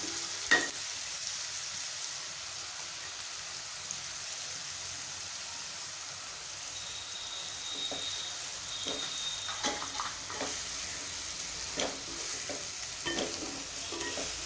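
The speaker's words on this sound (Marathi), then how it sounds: "कांदा छान गुलाबीसर होईपर्यंत असा सोनेरी रंग येईपर्यंत आपल्याला परतून घ्यायचा आहे" Chopped onion sautéing in a pan for a brinjal-potato curry, with a soft continuous sizzle and intermittent scraping clicks of a spoon stirring, fairly faint and without talk.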